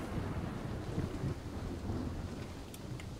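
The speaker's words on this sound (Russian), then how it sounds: "сейчас молния рядом со мной ударила" During a storm in the video game Metro Exodus, a nearby lightning strike brings a low, rolling thunder rumble over steady rain and wind hiss, moderately loud and without speech.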